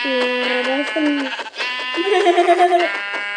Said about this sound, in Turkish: Ben koyun çıkmış.